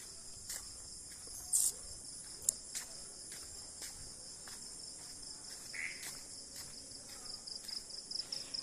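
Crickets chirping steadily in a quiet night on a dark village road, a continuous high trill with a few faint clicks and rustles.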